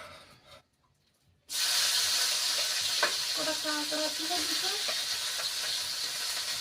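Shrimp dropped into a hot pan of oil begin frying with a sudden loud, steady sizzle and hiss that starts after a brief near-silence, with faint stirring and bubbling crackles layered on top.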